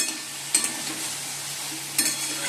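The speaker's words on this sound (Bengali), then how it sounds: "আলু ভাজা বসে দিয়েছি" Potatoes fry in a pan with a steady, soft sizzle throughout, broken by two brief stirring scrapes, close and alone with no talk.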